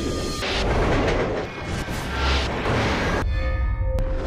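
A train in the 2004 film Spider-Man 2 speeds along its track, a loud, dense rumbling roar with a steady mechanical rush and a brief shrill metallic tone near the end.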